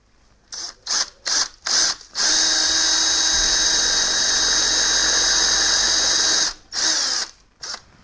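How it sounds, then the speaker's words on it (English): A power drill bores into hard concrete to cut a guide point for mounting a camera stand, running in a few short bursts, then one loud, steady grind of several seconds, then more brief bursts. "We are drilling into hard concrete."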